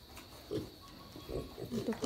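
Pigs in a piggery grunt and oink in short, close bursts, fairly quiet, with a brief word spoken among them.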